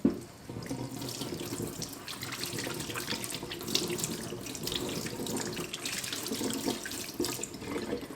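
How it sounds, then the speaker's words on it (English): Tap water running into a sink while hands are washed with handmade honey and oat soap, a steady splashing stream with small splatter changes and no talk. "There is nothing nicer than washing your hands with your own handmade soap."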